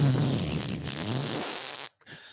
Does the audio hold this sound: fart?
yes